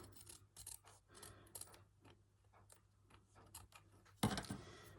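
Scissors trim a wide edge of fabric for a stitched fabric-book page, a series of soft close snips and rustles, faint and uneven, followed by a louder brief handling bump near the end.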